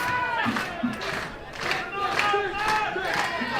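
A wrestling crowd at an Overload 8 Champions Edition show roars and chants, loud, sustained cheering with shouted voices rising and falling in waves and a little scattered clapping.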